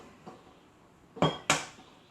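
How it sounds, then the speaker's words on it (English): Three eggs being cracked for butter tart filling: one faint tap, then two sharp close knocks against a bowl in quick succession, with no talking. "Now we're going to Ruby's going to crack 3 eggs."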